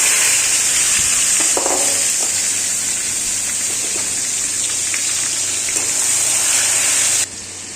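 Chopped tomatoes hit hot oil with a frying spice tempering in a pan, giving a loud, continuous close-up sizzle that stays steady, then drops off sharply just before the end.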